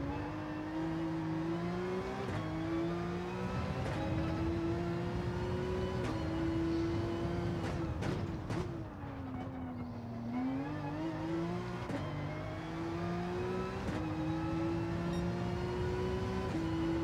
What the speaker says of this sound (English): Really giving the revs to this